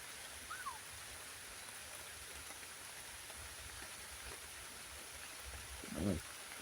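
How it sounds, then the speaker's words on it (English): Light rain falls steadily over a park lake, a faint even hiss of drops, with a short bird call early on and a brief voice near the end. "Bit of rain now."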